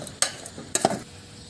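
Roasted bird and tamarind stirred in a sizzling pan, with two sharp scraping clatters of a utensil against the metal over a low, steady frying hiss, close and without speech.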